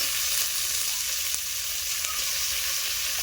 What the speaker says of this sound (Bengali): পেঁয়াজটা হালকা হালকা ভাজা হয়ে গেছে, দিয়ে দেবো টমেটো কুচি,